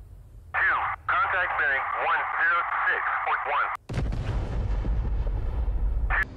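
An F/A-18 drops a bomb for a direct hit in DCS World. Radio-filtered speech comes first, then a sudden deep, rumbling blast swells up and lingers loudly to the end.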